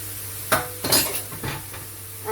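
A spoon stirs plain flour into mushrooms in a pan for a mushroom and chicken casserole, making several close scraping strokes and light metallic clinks over a soft sizzle.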